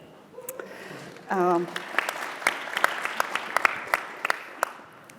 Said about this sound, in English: You're going to clap before I say anything.